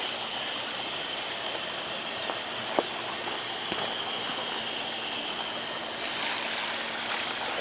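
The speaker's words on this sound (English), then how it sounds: "That's pond water." Pond water runs steadily in an outdoor garden setting where a lychee tree is being planted, a continuous broadband rushing like a small stream, with a couple of faint knocks breaking through.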